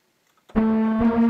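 Circuit-bent Casio SK-1 keyboard sounding one of its original built-in tones, a single sustained synth note starting after a few faint clicks and holding steadily for under a second.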